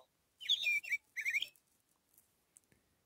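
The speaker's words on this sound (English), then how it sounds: "And the sparrow likes to sing." A sparrow sings two quick bursts of bright, high chirping whistles close by, then fades to a few faint ticks in near silence.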